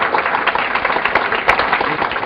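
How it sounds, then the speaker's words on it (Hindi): An audience clapping in a dense, steady burst of applause that holds at an even, fairly loud level throughout, with no talk over it. "घर में ताली बजाने का पैसा दिया जाता है उन्हें"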